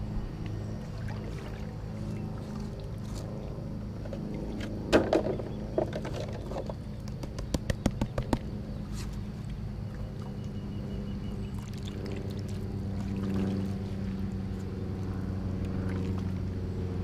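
Water pours and swirls as gravel is washed out in a pan while gold prospecting on a river gravel bar, a steady wash with a few brief knocks of stones in the middle.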